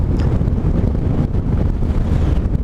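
Strong wind buffets the microphone, a loud, constant low rumble and roar with no speech.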